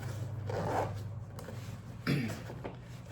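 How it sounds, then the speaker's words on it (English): The zipper of an Eberlestock Bando Bag XL is pulled shut with a short rasping zip, close by over a low steady background hum. "set it back in the bag, and reset the zipper"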